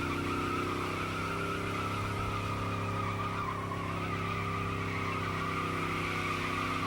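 Summernats 09 burnout eliminations: a car holds a sustained burnout, tyres spinning and squealing in a steady high screech over a droning engine, loud and continuous, with crowd noise in the background.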